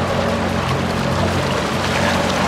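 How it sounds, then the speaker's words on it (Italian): An inflatable motor boat speeding over waves, its outboard motor droning under a continuous rush of water and hull slap, loud and close for the whole stretch. "Prima experience di questo video, giro in gommone."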